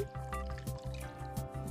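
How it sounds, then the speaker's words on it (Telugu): Water pours steadily into a pan on a lit stove with a trickling, splashing texture, close by, while a low hum and occasional clinks sit underneath. "వాటర్ వేసి"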